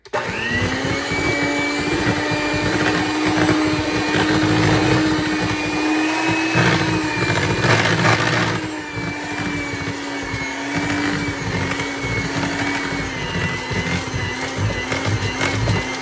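A mixer, likely electric, churns flour into sweet potato pumpkin pecan pie cookie dough; a steady, loud motor whir hums throughout, its pitch dipping slightly partway as the dough thickens.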